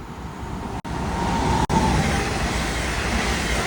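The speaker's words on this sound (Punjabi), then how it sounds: "ਟ੍ਰੇਨ ਬਹੁਤ ਤੇਜ਼ ਆ ਰਹੀ ਹੈ ਸੁਪਰ ਫਾਸਟ ਦੇਖੋ" A German ICE high-speed train rushes past at speed, making a loud, steady, close broadband roar that holds for several seconds with a couple of brief cuts.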